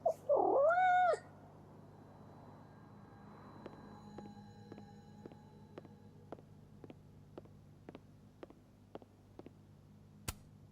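A cat in the Life is Strange: Double Exposure video game gives one loud meow, followed by a quiet stretch with faint evenly spaced ticking clicks.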